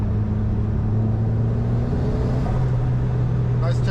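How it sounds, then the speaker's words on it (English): A 1.8T-swapped MR accelerates hard in 4th gear from about 50 mph and 3000 rpm, its steady droning engine note rising, with turbo whoosh heard close from inside the cabin. "Nice turbo noises, again pulls well hard"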